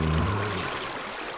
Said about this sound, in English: can you drop some water down, please?